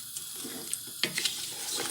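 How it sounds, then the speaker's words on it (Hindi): Water running steadily into a pot of mutton and zucchini curry on the stove, a close, continuous splashing pour with a few louder gurgles partway through. "तकरीबन दो ग्लास डाल लें पानी के।"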